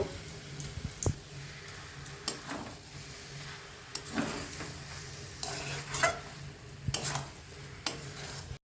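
A spoon stirs cabbage ghonto in a pan after ghee is added, giving soft scraping and clinking strokes at irregular intervals over a low, steady sizzle.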